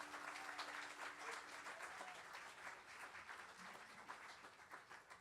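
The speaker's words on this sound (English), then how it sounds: "that's about as much applause as that song deserves" Concert audience applauding a band, a steady, moderately loud wash of clapping that holds for several seconds and thins slightly toward the end, with a faint tonal hum underneath.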